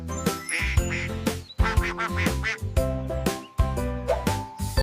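A duck quacks again and again in quick, loud nasal bursts over a steady background of music, with no talking.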